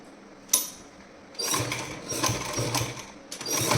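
A sewing machine stitching a pillow cover, with a short mechanical clack and then bursts of fast, rattling stitching that stop and restart, close up.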